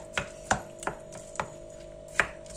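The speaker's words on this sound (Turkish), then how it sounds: "Şimdi iyice karıştırıyorum." A spoon stirs onion fritter batter with chopped onions, peppers and parsley in a bowl, giving a handful of sharp, separate clacks against the bowl over a low steady hum, with no talking.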